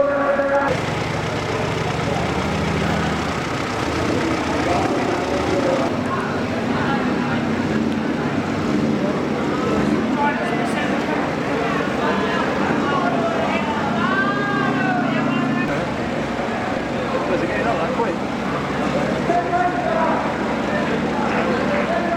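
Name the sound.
stunt car engine revving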